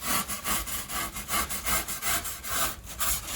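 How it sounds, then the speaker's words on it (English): A hacksaw blade rasps back and forth as it cuts the corners off wooden boat ribs for an Orkney 23 fishing boat, its rhythmic strokes steady and close, with no talking. "with a hacksaw blade, just to take the corners off."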